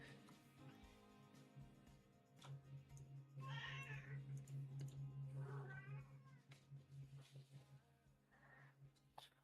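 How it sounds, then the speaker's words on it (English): A house cat meows in a string of drawn-out, insistent cries, quiet and somewhat distant, alone with no talking. "I'm being yelled at by the cat."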